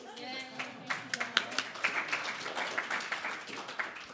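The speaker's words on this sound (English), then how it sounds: "Round of applause." Applause from a seminar audience at a journalism gathering, rising after a brief spoken prompt; uneven clapping from a modest crowd builds and continues under overlapping voices.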